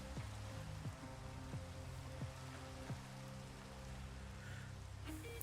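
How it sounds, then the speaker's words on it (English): Rain falls steadily in a video game, a soft even patter with a few brief low thumps mixed in, quiet throughout with no voices. "Of course it's raining."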